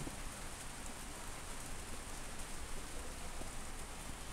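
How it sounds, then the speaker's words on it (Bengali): Rain falls steadily on a village house, a dense, even hiss of countless drops continuing without a break, soft and alone with no talking. "কি সুন্দর বৃষ্টি হইতেছে।"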